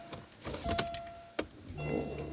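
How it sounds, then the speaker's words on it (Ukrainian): Quiet electric whirring and short motor hums from the right power side mirror of a 2005 Daewoo Lanos SE T150 adjusting, with a sharp click partway through, heard close inside the car. "показую праве електродзеркало"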